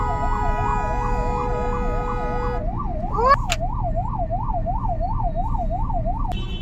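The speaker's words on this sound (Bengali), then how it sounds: "একটা রেড অ্যাম্বুলেন্স ওই জ্যামে আটকা পড়েছে" A red ambulance caught in a large traffic jam at Kaliachak on the Kolkata to Siliguri road gives a loud, continuous wailing siren that rises and falls steadily over road noise, with a brief horn blast in the middle.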